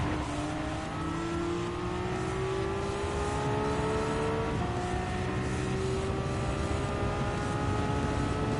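A Porsche Cup race car in Gran Turismo 7 drives at the Circuit de Barcelona, its engine droning steadily with rising and shifting pitch as it accelerates through turns, loud and continuous with no talk.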